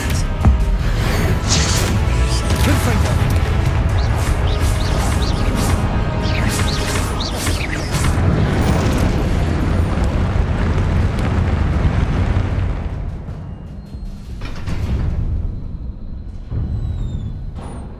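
Confringo blasting-spell explosions in Hogwarts Legacy, a dense, continuous roar of crashing blasts and rumble for about twelve seconds, then thinning to a few scattered bursts.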